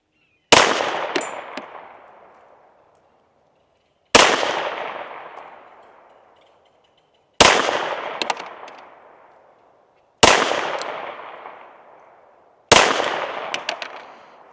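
Five single shots from a Springfield Armory XD Mod 3 pistol, fired at a range at spaced intervals, each a loud sharp crack with a ringing decay.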